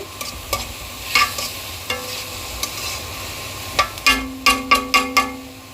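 Soya chunks stir-fried in a pan, a steady low sizzle under repeated spatula scrapes and taps that quicken into a rapid run of knocks near the end, close and clear with no voices.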